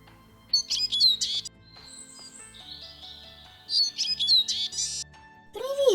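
Several birds chirp and tweet in quick bursts, bright and clear against a quiet background, with pauses between the calls.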